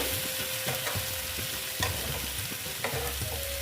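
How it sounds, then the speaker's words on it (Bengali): Egg curry sizzles in a pan while a spoon stirs it, giving a steady frying hiss with light scraping knocks at irregular intervals, close and alone. "ডিমের সঙ্গে কষিয়ে নিচ্ছে"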